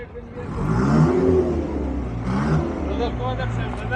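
A running engine of a Japan surplus car with an automatic transmission hums steadily up close, with brief rises in pitch, while someone talks over it.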